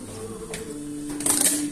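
A sewing machine stitches a garment with the pedal pressed, giving brief bursts of mechanical whirring and clicking close by, with a faint hum and short gaps between runs.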